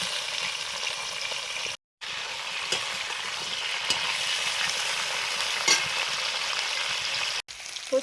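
Pointed gourd (potol) sizzles steadily in hot oil in a home kitchen pan, a continuous loud frying hiss with occasional stirring clicks and a couple of brief cut-outs.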